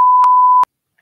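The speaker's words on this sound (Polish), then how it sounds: "Może być pikanie, bo ktoś wypikał przekleństwa." A single loud, steady censorship bleep tone lasting just over half a second, covering swearing in footage of a plane crash, cutting off abruptly into near silence with faint sounds at the end.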